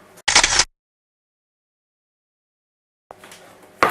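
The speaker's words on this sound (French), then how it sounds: "Ça te dit, on fait un selfie?" A camera shutter fires while a selfie is taken, a short loud snap at the start, then near silence, then a second sharp click at the end over light room noise.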